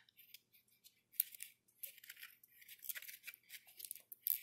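Adhesive tape pulled from a roll and torn in several bursts of crisp, close ripping and crackling, separated by brief quiet pauses, while a straw is taped down for a small craft vehicle.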